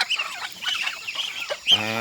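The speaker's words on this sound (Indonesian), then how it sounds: "Jadi ini ayam kampung ya" Free-range village chickens cluck close by in a short series of soft, choppy calls, ending with a louder, sustained squawk from one bird.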